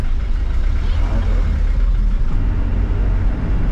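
A crowded Trans Batam city bus driving through traffic in Batam, its engine a steady low rumble heard from inside, with people talking over it.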